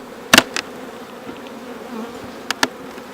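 Honey bees at open beehives on a farm, a steady close buzzing hum with a few sharp brief bursts as bees pass near, no voices.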